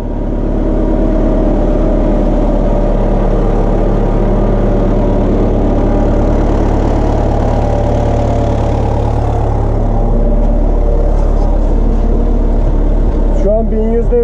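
A Case JX110 tractor engine runs steadily at a low, rumbling pitch around 1100 rpm, close by, ploughing a wheat field about 30 centimetres deep, with some speech faintly over it.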